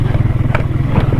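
A motorcycle riding over a rough road, its engine thrumming steadily up close while the bike rattles and clatters, with a couple of short bumps.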